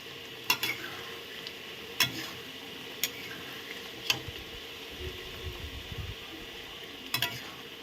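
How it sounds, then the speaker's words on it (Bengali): Moong dal with bottle gourd shoots is stirred with ghee. A soft, steady simmering hiss is punctuated by a handful of light spoon taps and clicks against the pot. "ঘি দিয়ে দিলাম, দিয়ে এখন আমি এটাকে ভালো করে নেড়ে নেব।"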